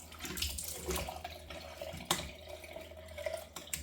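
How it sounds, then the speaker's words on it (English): Cold water from a tap splashes and runs faintly as a face is rinsed over the sink during a shave, with soft irregular splashes and drips. "I'm going to rinse the face with cold water."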